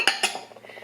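Metal utensil clinking against a mixing bowl while brown sugar and all-purpose flour are stirred together, two sharp clinks followed by softer, lighter scraping taps.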